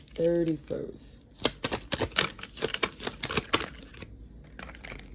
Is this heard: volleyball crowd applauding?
no